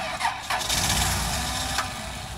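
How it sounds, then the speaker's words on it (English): A 6.5 litre turbo diesel engine cranks with a steady rhythmic churn, then catches briefly before stalling, heard up close in a driveway with no talking. "I didn't think it would start, and it stalls."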